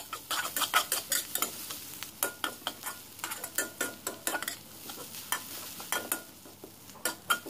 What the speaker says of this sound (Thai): เราก็จะตั้งกระทะน้ำมันแล้วก็เจียวกระเทียมกับพริกให้หอมนะคะ